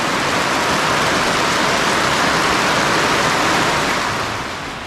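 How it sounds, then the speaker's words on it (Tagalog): Steady, heavy rain pours down, a dense continuous hiss that holds constant before easing slightly at the end. "May ulan na sa wakas mga kaprobinsya."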